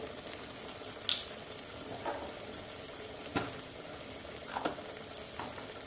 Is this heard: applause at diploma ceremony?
no